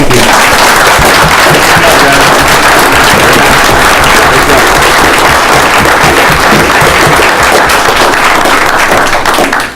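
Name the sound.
audience applause at city meeting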